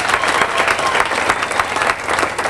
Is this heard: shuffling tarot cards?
no